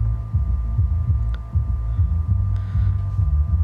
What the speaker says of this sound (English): You want punchy bass coming out of the subwoofers.